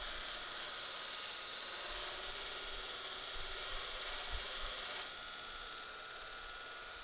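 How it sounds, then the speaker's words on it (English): A grinder runs steadily with a broad, constant hiss of steam rising from the water, a continuous loud wash of noise with a slight shift near the end and no talking. "there's some steam coming out of the water"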